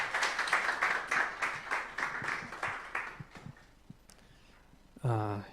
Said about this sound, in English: let's make a big applause for Michelle.